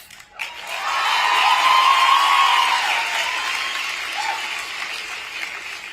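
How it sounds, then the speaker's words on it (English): An audience applauds and cheers at a conservative speaking event, a dense wash of clapping with whoops that swells after a brief start, holds loudly for several seconds, then eases slightly. "Yeah, you should cheer for that."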